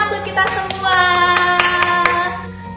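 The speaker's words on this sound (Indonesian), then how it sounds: "Tepuk tangan buat kita semua." A group claps together at a children's Bible class, a short burst of hand clapping lasting a few seconds with sharp individual claps standing out, no talk over it.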